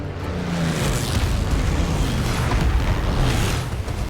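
Bombs going off in a WWII bomber drama, a dense, loud, continuous rumbling roar of explosions that fills the whole stretch and cuts off abruptly at the end.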